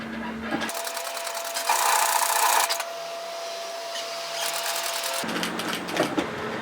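Sewing machine stitching fabric along a fold of a Belle Robe garment toward a corner, a close, steady mechanical whir with a brief faster stretch and a pause for pivoting.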